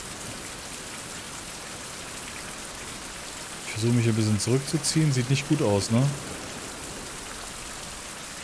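Constant rainfall hisses in the Caribbean survival game Fountain of Youth, a steady wash of drops running throughout while someone speaks briefly over it midway.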